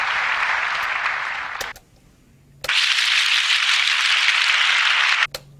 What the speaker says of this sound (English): the spontaneous applause that you're hearing is because this is a great crowd